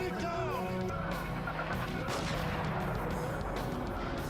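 A gunshot in a tense police flashback from The Getaway: Black Monday, set amid dense, busy game sound with shouting nearby.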